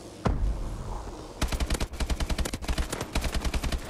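Automatic weapon fire in the game Call of Duty: Advanced Warfare, with a single loud shot followed by long, rapid bursts of machine-gun fire, close and dominant.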